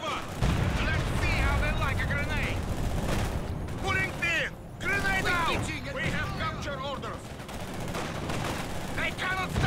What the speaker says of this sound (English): Let's see how they like a grenade.